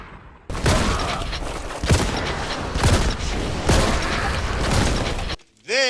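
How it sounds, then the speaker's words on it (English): Shotgun in the video game Warhammer 40k: Boltgun, with heavy, dense blasts and crunching impact noise in several booming bursts over about five seconds, cutting off abruptly at the end. "The shotgun is messy, it's pretty quick, and it feels very powerful even from a good distance."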